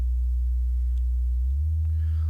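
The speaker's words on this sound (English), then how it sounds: "you can see we have a sine wave" Harmonic Shift Oscillator sine wave cores putting out a loud, pure low tone that steps up slightly in pitch partway through, with faint clicks.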